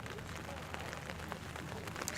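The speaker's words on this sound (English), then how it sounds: "Now the rain's really picked up here. Thought maybe we're past it, but nice steady rain falling now." Steady rain falls on an outdoor soccer match, a constant broadband hiss running through the whole stretch at moderate level, with faint crowd or commentary sounds beneath.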